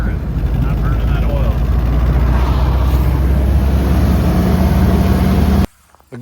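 A 1954 Willys Jeep CJ3B engine that burns oil, running rough on three cylinders, gives a loud, steady, close rumble that cuts off abruptly near the end.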